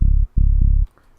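Three deep, sustained, mono sub bass notes from a Sylenth1 synthesizer with a slight punchy attack, the first two cut off sharply, then near silence.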